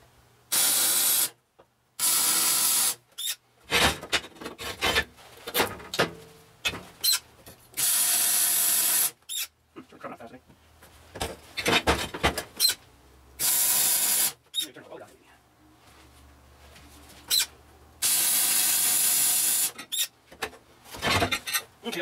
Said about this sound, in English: And do some spot welding on this guy now.